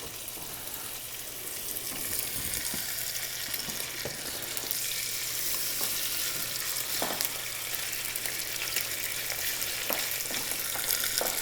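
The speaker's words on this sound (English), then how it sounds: "When we put the fish in, we want to hear it make some noise, cooking, sizzling, something." Steady, crackling sizzle of fish frying in hot oil, with occasional sharper pops and spits over a continuous hiss, close and fairly loud.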